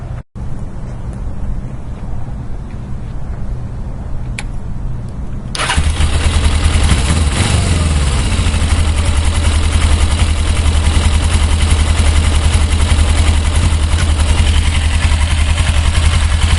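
A 1995 Suzuki GS500E motorcycle engine with stock exhaust cranks briefly, then catches and settles into a loud, steady idle that continues to the end, with a small rise in revs shortly after starting.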